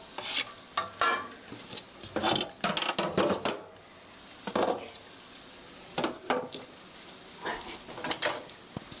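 Garlic sautés in a pan over medium heat for a hamburger steak with cheese, a soft, quiet sizzle broken by bursts of a utensil scraping and stirring against the pan, close up and with no voices.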